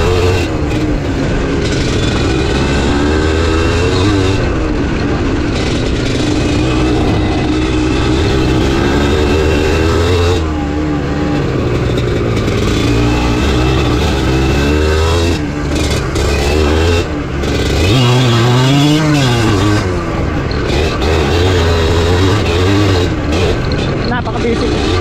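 Several trail dirt bikes, a Kawasaki KLX140RF, a Kawasaki KMX125 and a Beta R300, ride a trail with engines droning and revving steadily and loudly close by, with speech intermittently over the motor noise.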